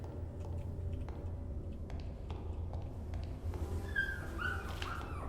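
A dog whimpers in the horror game Rewind or Die, with thin, high whining cries rising near the end over a steady low rumble of ambient game noise.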